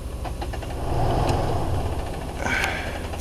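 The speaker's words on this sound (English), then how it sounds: "I have my motor, my generator going outside." A generator runs outside an RV, a steady low engine drone with a slight knocking rhythm that swells and eases, fairly close, with no voices.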